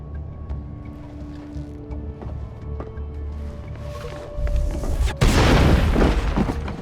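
A grenade detonates in Mass Effect: Legendary Edition: a sudden loud, broad blast bursts out after a quieter stretch of low rumbling game ambience and ringing tones, then lingers as a rough roar.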